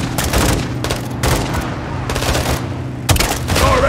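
Sustained gunfire in the video game Call of Duty: Modern Warfare II, dense overlapping automatic bursts and heavy thuds in a loud continuous battle, with brief shouted voices mixed under the shooting.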